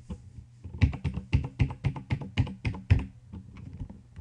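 Rapid keystrokes on a computer keyboard as a short name is typed, a burst of about a dozen close, crisp taps after a brief pause, with no talking.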